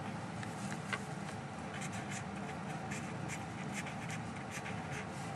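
A pen scratches across paper as a table is written out by hand, with soft, steady strokes and short pauses between them, faint and close.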